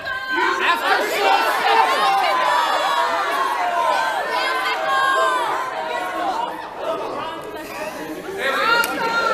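An improv comedy audience shouts out genre suggestions, a dense overlapping crowd of voices calling and cheering at fairly steady loudness throughout, with a brief dip near the end.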